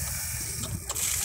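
Water flowing through a newly connected pipe on a 100mm main with a tapping saddle and 3/4 to 1/2 adapter, a steady, loud rushing flow that continues without a break and with no voices.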